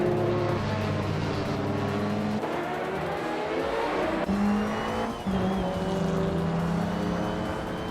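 Race cars, among them a vintage 1996 Ozella with a BMW engine, roar off the start and race, engines droning loudly with shifting pitch, tires squealing and cars sweeping past close by.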